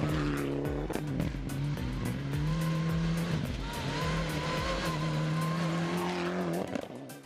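A safari rally car is driven hard, its engine roaring loudly and continuously with rising and falling revs, while tires squeal and skid through the middle, close up and with no voices.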